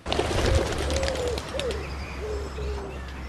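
Pigeons coo softly and repeatedly outdoors, several low, wavering calls spaced across a few seconds, with faint chirps and steady background hum underneath.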